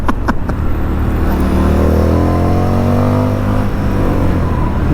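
A 2020 Indian FTR 1200 S race replica motorcycle accelerates hard, its engine note loud, close and climbing steadily in pitch without letup.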